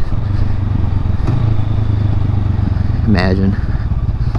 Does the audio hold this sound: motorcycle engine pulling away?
yes